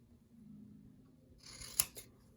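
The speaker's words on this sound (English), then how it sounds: "you're going to get your GM tape and you're gonna cut yourself a square" Scissors snip through GM tape while cutting out a square, a couple of quick crisp cuts close by near the end of an otherwise quiet stretch.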